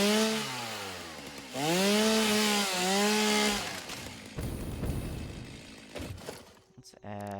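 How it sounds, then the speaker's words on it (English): A chainsaw in the video game Satisfactory cuts with a loud, steady buzzing drone that rises and falls, while a voice talks over it, then gives way to clattering effects. "Let me cut this out real fast with the chainsaw."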